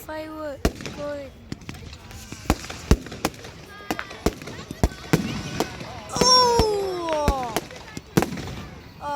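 A fireworks display sets off a run of sharp, evenly spaced pops and bangs, with a whistling, rising burst near the end. Excited voices, including a child's, talk and exclaim between the blasts.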